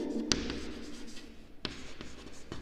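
Marker or chalk writing on a classroom board, a few sharp taps and short scratchy strokes spread over a couple of seconds, close and fairly quiet, with no voice present.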